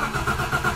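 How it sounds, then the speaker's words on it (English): A BMW E30 Touring's engine cranks in quick, even pulses as it starts, heard close and fairly loud with nothing else around it. "And I'm going to start"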